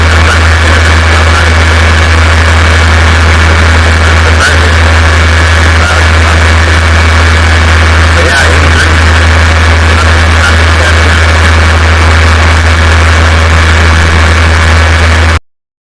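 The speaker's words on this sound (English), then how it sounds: "I was just mentioning how loud the fan was" Constant loud whir from a laptop cooler with six 300 CFM fans, a deep steady hum and a high whine, unbroken for the whole stretch, with only faint clicks.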